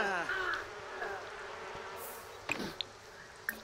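Bees buzz in a steady, fairly even drone during hands-on beekeeping, with a few brief clicks and knocks from handling near the end.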